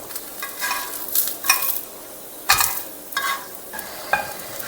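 Wheat-flour flatbread sizzling in ghee on a pan: a soft, steady frying hiss with intermittent scraping and stirring clinks, heard close with no talking.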